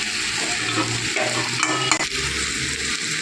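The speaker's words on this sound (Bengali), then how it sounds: "দেখুন শাক সবজিগুলো সিদ্ধ হওয়ার জন্য মামনি একটু সামান্য জল দিয়ে দিচ্ছে" Winter greens and vegetables simmering in a pan after a little water is added, with a steady sizzle and the scraping clatter of a spoon stirring, close up with no talk.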